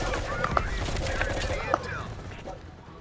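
An M16 rifle fires in the jungle setting of a Cold War shooter campaign, several quick sharp shots over a continuous dense battle din, with a voice talking briefly.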